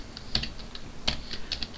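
Fingers typing on a computer keyboard during Python programming, a sparse run of crisp, close key clicks in uneven bursts with no voices.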